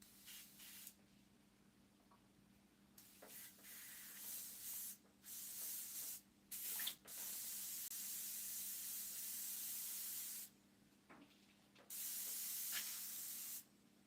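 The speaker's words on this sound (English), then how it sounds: "I got to clean out the airbrush" Airbrush spraying paint as it is flushed clean between colors, soft bursts of hissing air starting and stopping several times, with longer sprays in the second half over a faint background hum.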